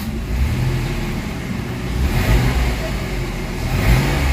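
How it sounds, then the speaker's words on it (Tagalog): A Mitsubishi Mirage with a throttle delay and low power revs its engine, the mid-pitched hum rising and falling in a few surges around 1,000 to 3,500 RPM, close and loud over faint road traffic. "So pakinggan natin yung RPM at pakinggan nyo mabuti yung RPM"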